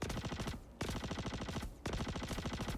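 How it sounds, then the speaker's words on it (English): Rapid bursts of automatic gunfire in the video game Star Citizen, loud and close, with two brief pauses between long volleys. "There's gunfire."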